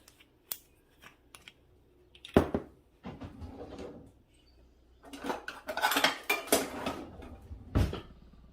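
Kitchen dishware being handled while a cook chooses a smaller bowl for balsamic vinegar: scattered clinks and clatters of bowls and utensils, with a louder rattling flurry in the middle and a final knock, fairly close with no talk.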